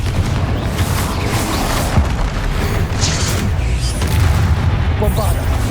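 The Confringo blasting spell explodes in Hogwarts Legacy, a heavy continuous rumble of booms and bursts, loud and dense throughout with crackling debris and indistinct voices in the mix.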